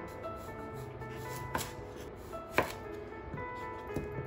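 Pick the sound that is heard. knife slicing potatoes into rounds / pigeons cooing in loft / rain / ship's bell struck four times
knife slicing potatoes into rounds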